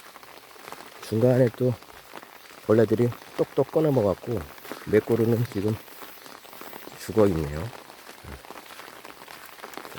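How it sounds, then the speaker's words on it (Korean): Steady rain patters softly on an umbrella in a vegetable garden while a person walks and talks in short bursts over it. "빗소리 들리죠?"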